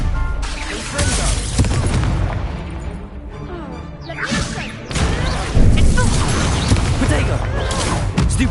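Confringo spell explosions in the video game Hogwarts Legacy, loud crashing blasts and whooshing hits in rapid succession amid chaotic spell-combat noise, with a heavy burst midway through.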